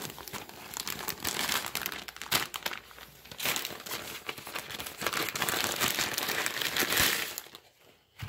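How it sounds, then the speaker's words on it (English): Crinkly plastic-foil heater bag from a Chinese military ration being torn and pulled open, a steady close-up crumpling and crackling rustle that runs almost continuously, easing off briefly near the end. "So we're going to go ahead and tear this open."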